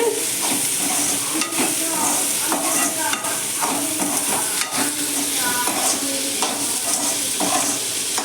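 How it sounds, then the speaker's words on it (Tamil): Small bitter gourd pieces sauté in oil in a pan, giving a continuous loud sizzle broken by repeated scraping and clattering of a spoon as the vegetables are stirred. "எண்ணெயில் தான் வதக்கணும் தண்ணிலாம் ஊற்றக்கூடாது"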